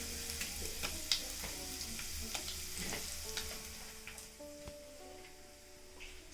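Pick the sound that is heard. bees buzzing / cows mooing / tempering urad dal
tempering urad dal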